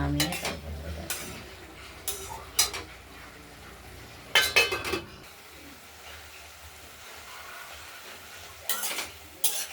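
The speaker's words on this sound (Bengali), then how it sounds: "আমরা লাউগুলোকে একটু মাঝে মাঝে রান্না নাড়াচাড়া করে দিচ্ছি" Bottle gourd stirred in an open pan with fried lentil dumplings, a utensil scraping and clinking against the metal in several short bursts between quieter stretches.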